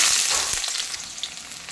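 Onion hits hot oil in a wok for a Maggi noodle dish, giving a loud, steady broadband sizzle close by, with a brief sharper crackle burst near the start and no talking.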